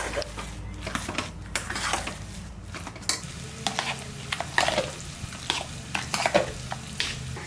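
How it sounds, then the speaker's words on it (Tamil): Cooked rice is mashed with milk for curd rice: repeated soft squelching presses and scrapes of a spoon against a vessel in an irregular rhythm, close and moderately loud. "நல்லா இந்த மாதிரி மசிச்சு விட்டுக்குங்க தயிர் சாதத்துக்கு."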